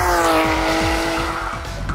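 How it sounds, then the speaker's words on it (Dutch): A Porsche GT3 RS sports car accelerates hard, its engine note rising in quick successive gear pulls, loud and close throughout. "En we zijn onderweg in de GT3 RS."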